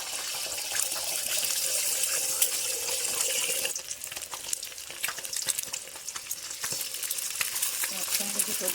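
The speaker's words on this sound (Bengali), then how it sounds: "দিয়ে ডিম ভেজে নেব" Two eggs frying in hot oil in a wok-style pan, a loud, continuous sizzle that thins out midway into crackling spits and occasional stirring scrapes.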